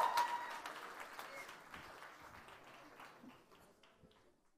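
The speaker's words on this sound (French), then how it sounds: "ils vont vous applaudir encore une dernière fois" Audience applauding a youth group, a fairly faint patter of clapping that gradually thins out and fades over a few seconds.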